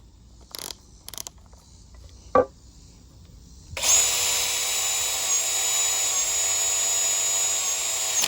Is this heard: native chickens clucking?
no